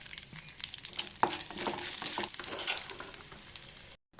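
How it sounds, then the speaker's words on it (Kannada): Chana dal, curry leaves and dried chilli fry in oil in a pan, giving a steady sizzle with crackles and the scrape of stirring, close and continuous before stopping abruptly at the end. "ಕರಿಬೇವು ಹಾಕ್ತೀನಿ. ಒಣಮೆಣಸಿನ್ಕಾಯಿ ಚೂರು ಹಾಕ್ತೀನಿ. ಸ್ವಲ್ಪ ಫ್ರೈ ಆಗಲಿ."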